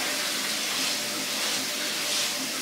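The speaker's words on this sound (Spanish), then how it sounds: "Abrimos la llave," Water runs from a bathroom tap onto a cleaning sponge, a loud continuous rushing hiss that stays steady throughout with no voices.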